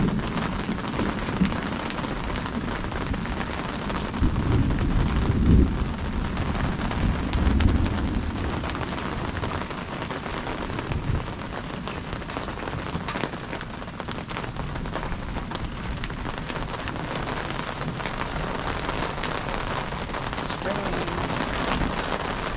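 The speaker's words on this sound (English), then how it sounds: "And finally we got rain." Steady rain falls on an open creek dam on a cool evening, a dense even hiss throughout with a couple of low swells that may be distant thunder; no talk is heard.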